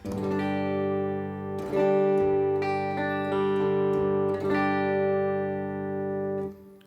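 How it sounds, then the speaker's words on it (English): A clean electric guitar on the neck pickup rings out warm and round, a few sustained chords strummed and held, fading out at the end, alone with no talk. "here's my clean tone. Here's the neck pickup."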